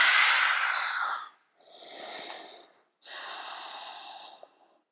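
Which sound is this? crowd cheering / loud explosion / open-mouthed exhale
open-mouthed exhale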